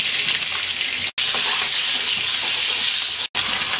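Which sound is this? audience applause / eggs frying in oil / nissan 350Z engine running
eggs frying in oil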